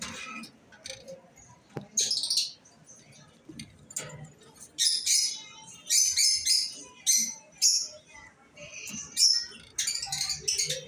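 A breeding pair of cage birds with their chick at a bird market calls in repeated sharp, high chirps and squeaks. The calls come in irregular bursts over quiet background murmur, close and fairly clear.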